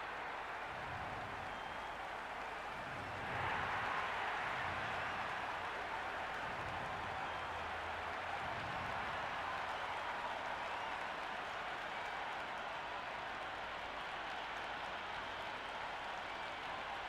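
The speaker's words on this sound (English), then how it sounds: "The crowd are making a heck of a lot of noise even before the first ball's been bowled." A large cricket stadium crowd at an IPL match roars and claps steadily, swelling in volume a few seconds in and holding as a continuous wash of cheering.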